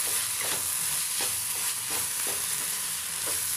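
Vegetable bhaji of capsicum and carrots with tomato ketchup being stirred in a pan, with a constant sizzle and repeated scraping strokes at a regular rhythm, nearby.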